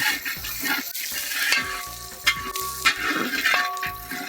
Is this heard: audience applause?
no